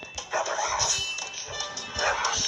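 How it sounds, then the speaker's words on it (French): Dogs bark and yip repeatedly in the tower-defense video game Kingdom Rush, with small, scattered barks mixed into busy game effects at moderate volume. "Je comprends maintenant pourquoi on les entendait aboyer."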